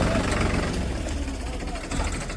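A tractor engine runs at a farm with a steady, low, throbbing rumble, while people talk over it throughout.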